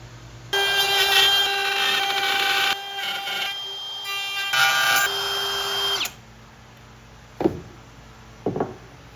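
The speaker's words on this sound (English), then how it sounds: "So I'm going to take a piece of wood and kind of router it into the bottom here." A handheld router cuts into a piece of walnut for the underside of a kitchen island, with a loud high whine that runs steadily for several seconds before cutting off, followed by a couple of faint knocks.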